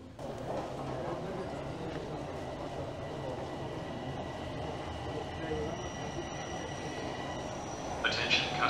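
Toronto subway train at Bloor-Yonge station, a steady loud rumble of rolling wheels and rail noise throughout, with faint high whines and a brief squeal near the end.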